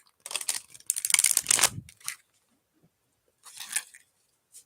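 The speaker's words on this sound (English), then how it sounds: "I'm going to shuffle you right into this deck." A deck of tarot cards is shuffled close by, two bursts of crisp riffling and papery flicking, then a pause and a shorter flurry of card noise, alone without talk.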